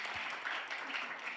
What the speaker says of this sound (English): So another big round of applause for our panelists,